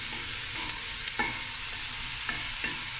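Curry leaves and spices fry on medium heat with a steady, bright sizzle and a few sharp crackling pops.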